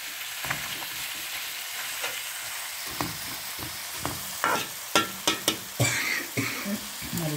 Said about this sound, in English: Now I let it fry in a low heat with my spices.